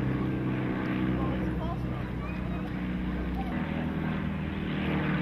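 A de Havilland Gypsy Moth biplane with a Gypsy 2 engine drones steadily at an aviation day fly-in and display on a grass strip, its propeller engine a continuous rumble with crowd noise in the background.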